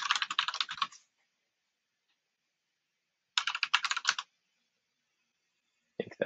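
A password is typed on a Mac keyboard in two quick bursts of close, crisp key clicks, about a second each, separated by silence, with a few more keystrokes at the end.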